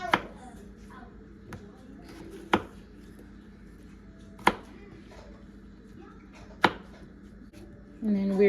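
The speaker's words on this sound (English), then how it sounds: "So I'm just going to start off by dicing some potatoes." A knife dices potatoes on a cutting board, giving a handful of sharp, isolated chops spaced a second or two apart, close and fairly quiet over a soft background hum, with a louder rustle at the very end.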